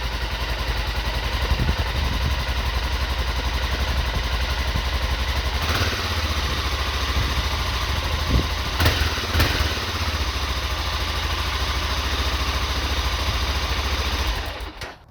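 A BMW F650 adventure motorcycle with a 650cc single-cylinder engine runs at a steady, close, loud idle, a rough continuous thrum with a few faint clicks before it cuts out at the end.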